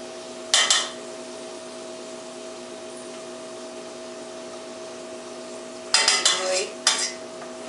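Soft roasted butternut squash is scooped from its shell into a pan, with two clusters of scraping and clattering against a quiet steady hum.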